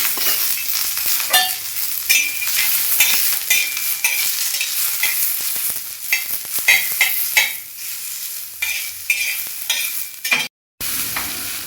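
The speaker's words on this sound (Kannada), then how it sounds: "ಸ್ವಲ್ಪ ಎಣ್ಣೆ ಹಾಕಿ ನಾವು ಹುರಿಬೇಕಾಗ್ತದೆ" Tomato and onion with garlic fry in oil in a pan, crackling loudly and steadily with frequent stirring scrapes and a brief break near the end.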